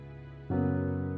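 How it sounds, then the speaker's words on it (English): A sustained keyboard chord swells in halfway through, a full layered tone blending a struck piano attack with a smooth, lingering strings pad. "you get the rich attack of the piano and then the lingering beauty of the strings"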